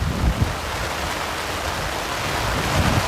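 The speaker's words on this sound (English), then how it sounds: "The rain is coming into our tent now." Heavy rain and wind pound a tent in a steady, dense, roaring wash of noise, with gusts swelling and fading and no voices.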